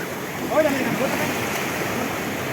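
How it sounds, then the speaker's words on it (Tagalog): Surf rolling onto a beach in La Union, a steady broadband wash of breaking waves with a brief louder surge near the start, recorded close by amid wind. "Grabe ang waves."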